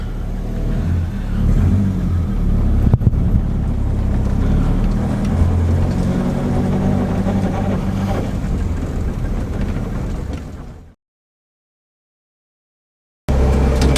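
A Ford Anglia driving off on a cold winter day, a loud, steady engine drone with rising revs through the gears inside the cabin, cutting to silence near the end before the engine noise returns.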